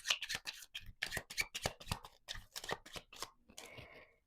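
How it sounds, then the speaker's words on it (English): Slippery tarot cards shuffled by hand in a quick run of crisp riffling flicks and slaps, close and fairly loud, ending in a softer rustle; no talking over it. "These are very slippery cards, but I like that. They're easy to shuffle."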